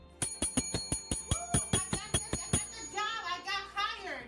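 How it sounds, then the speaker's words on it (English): A hand bell is rung in celebration of someone landing a job, a rapid series of about a dozen bright, ringing strikes followed by a lingering shimmering tail, with a voice briefly audible at the end. "And the first thing they do is ring the bell."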